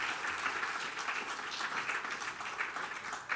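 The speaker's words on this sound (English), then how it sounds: "a big round of applause, please" Dinner audience at the 2018 Royal Cocoa Festival applauding Andrew Whiting, owner of Beech's Chocolates: steady, dense clapping from a roomful of people, sustained at an even level throughout.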